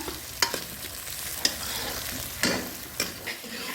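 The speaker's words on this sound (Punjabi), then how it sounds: "ਦੇਖੋ ਹੁਣ ਮੰਮੀ ਪਿਆਜ਼ ਭੁੰਨ ਰਹੇ ਨੇ" Onions and ginger frying in hot oil, with a low steady sizzle broken by several sharp scrapes and clinks of a spoon stirring the pan.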